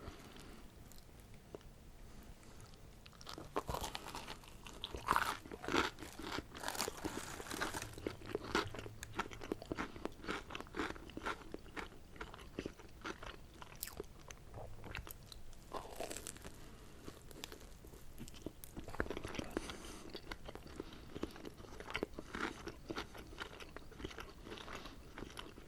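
Someone eats Korean corn dogs coated in batter and rolled in broken-up French fries. Close, quiet bites give repeated crisp crunches with chewing and crinkly rustles between them.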